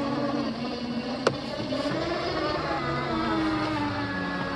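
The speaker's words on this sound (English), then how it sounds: "I'm actually steering a zero turn mower with one hand." A Ryobi ZT480ex battery-powered zero turn mower runs with a steady electric whine and motor hum, moderately loud and close, with one sharp click partway through.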